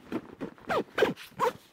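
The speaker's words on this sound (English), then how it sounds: "zip that up" A GoRuck GR1 backpack is zipped closed in a quick series of about six short, close zipper rasps with brief gaps between them, and no talking.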